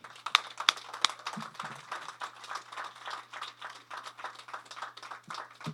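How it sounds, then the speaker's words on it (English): An audience at a school of communications naming ceremony applauds Reverend Al Sharpton: a few sharp claps up front, then softer, distant, uneven clapping continuing throughout. "please give a round of applause for Mr. Reverend Al Sharpton"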